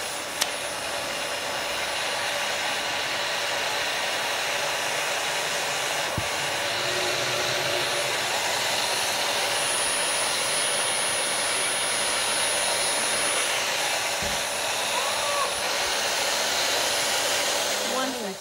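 Dyson hair dryer blowing steadily and loudly for the whole stretch, a constant broadband whoosh with a faint high whine and no talking.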